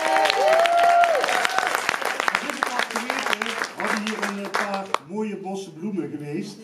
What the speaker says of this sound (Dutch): Jullie applaus nog eens een keer